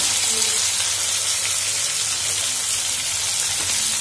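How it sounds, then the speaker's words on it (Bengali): Potatoes fry with salt in a pan, giving a steady, close, hissing sizzle that runs unbroken for the whole stretch. "একটু নুন দিয়ে ভেজে নেবো, তাহলে ভালো হবে।"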